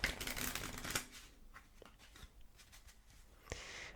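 A deck of cards is shuffled for blackjack with a quick papery riffle, followed by scattered soft taps and handling noises, close and fairly quiet.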